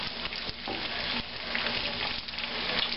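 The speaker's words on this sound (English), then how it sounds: "So I'm cooking all my eggs here in this frying pan." Steady, loud sizzling of eggs frying in a pan, with occasional scraping stirs as they are scrambled, and no voices.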